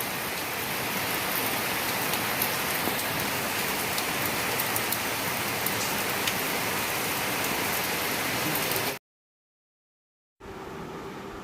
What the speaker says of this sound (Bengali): দেখো বাইরে বৃষ্টি হয়েছে